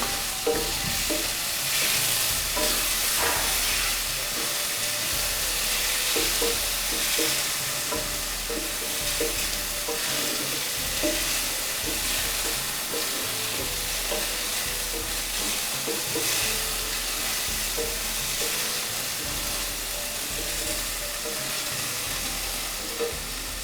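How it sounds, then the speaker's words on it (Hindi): Potatoes fry lightly in a pan under a continuous even sizzle, with occasional stirring scrapes and clinks throughout, close and moderately loud with no talking. "पहले आलू डालेंगे, हल्के से फ्राई करेंगे"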